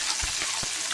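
Bata fish frying in hot oil in a pan, a dense steady sizzle with a few soft low bumps as the fish shift, close and continuous for a moment.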